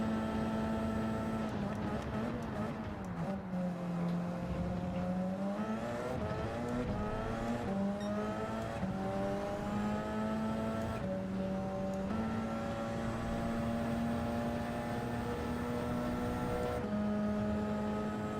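A Mazda race car laps a time trial in Gran Turismo 7. The engine whine rises and falls steadily through gear changes, continuous and prominent throughout.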